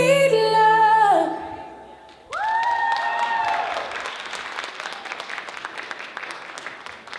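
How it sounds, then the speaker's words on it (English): A crowd at the Black Mental Health Week closing ceremony applauds the Afro Ballet performance, with sustained singing and music fading out before a burst of clapping and cheers takes over. "can we get a round of applause for our Philly groove and the Afro Ballet performance?"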